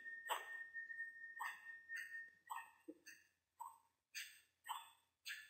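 Game dog in Pirates of the Caribbean Online barking in a quiet scene, about nine sharp, evenly spaced barks and yips at close range, all alone.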